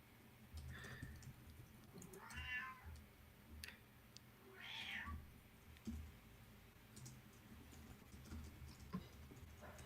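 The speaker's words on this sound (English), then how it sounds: "My cat, I don't know if you can hear my cat screaming at me in the background." A cat meows repeatedly in the background, two drawn-out cries and a few shorter ones, faint and somewhat distant in a quiet room with light clicks and shuffling.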